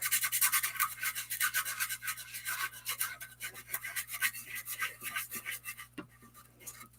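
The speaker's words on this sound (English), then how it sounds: "I'm going to hit this with my sanding tool lightly" Steady, light scratchy rubbing of a sanding tool over embossed paper, a close, continuous rasp with quick back-and-forth strokes, no voices.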